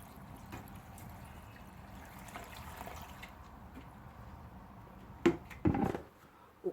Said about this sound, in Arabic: كنزيدو عليها 1 لتر ديال الماء